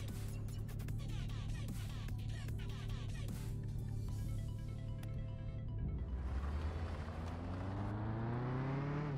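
A car engine in the Mon Bazou video game drones loudly and continuously, holding a steady pitch before revving up and climbing sharply as it accelerates, with no talk.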